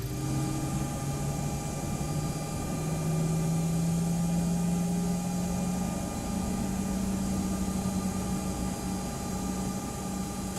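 A CRJ 200 jet engine spools up in the X-Plane 11 flight simulator, a steady roaring hum with a rising low whine and faint high tones, continuous and fairly loud with no talk.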